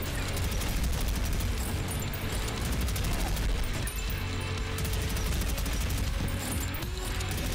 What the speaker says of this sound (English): Let's use the minigun because it's fun.